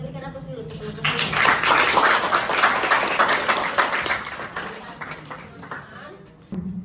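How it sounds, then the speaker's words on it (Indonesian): Classroom audience clapping for a student presentation group, a lively burst of many hands that builds quickly, holds for several seconds and tapers off, with a voice speaking before and after. "kita berikan aplaus dulu untuk kelompok ini"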